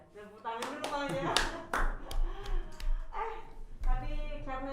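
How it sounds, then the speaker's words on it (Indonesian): A few people clap in short bursts during an Indonesian podcast about journalism, close and loud, with talk running between and over the claps. "Tepuk tangan dulu Bang ya"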